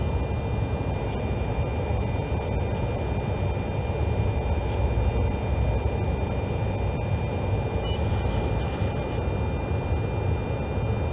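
Fighter jet cockpit ambience: a loud, steady, broadband engine roar and rushing hiss filling the whole clip without a break, with faint high tonal whines laid over the top and no talk.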